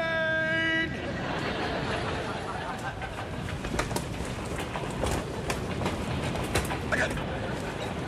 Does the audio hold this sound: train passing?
yes